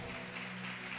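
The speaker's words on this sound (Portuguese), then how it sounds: "Dê um aplauso bem forte." A church congregation breaks into loud, dense applause filling a short stretch, with a steady low hum beneath the clapping.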